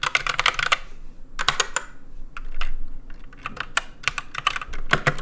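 Typing on a GK61 mechanical keyboard fitted with silver switches: close, crisp key clicks in quick bursts and runs, with short pauses between flurries and no talking.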